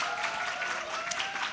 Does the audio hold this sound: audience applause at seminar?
yes